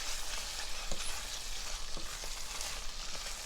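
Worcestershire sauce is stirred into a crawfish étouffée in a pan, producing a faint, dense bubbling sizzle with a few soft spoon scrapes throughout.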